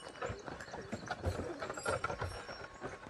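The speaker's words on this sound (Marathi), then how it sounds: "आता जाईन बैलगाडी मोर." Oxen pull a heavily loaded bullock cart along, their hooves making faint, irregular clopping with rattling and creaking from the cart as it moves, distant and fairly quiet.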